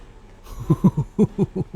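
Engine revving inside a tunnel in the racing game The Crew Motorfest, a series of close, loud rhythmic pulses that rise and fall after a quiet start.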